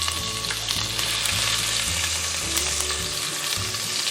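Sliced onions frying in hot oil with cinnamon, bay leaf, green cardamom and cloves, a loud continuous crackling sizzle that holds steady throughout.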